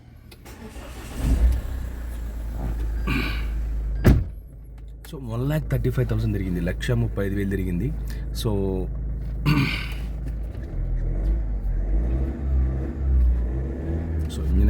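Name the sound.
Mahindra XUV500 W10 diesel car engine starting and running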